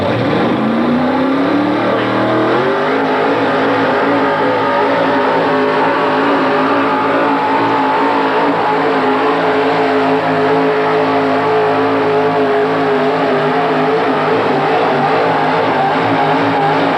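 The Blue Max, a Mopar pulling machine, roars loud and close at a 1985 pull event in Meadville, PA, its engine revving up in pitch and then holding a sustained, strained howl throughout.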